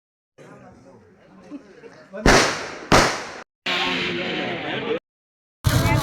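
Firecrackers burst outside a church after an Easter service: several loud, sharp cracks in quick succession with crackling tails, cut between stretches of people chatting nearby.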